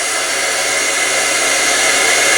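A heat embossing tool blowing hot air in a craft setting, a loud continuous dryer-like whoosh held evenly throughout, with no talk.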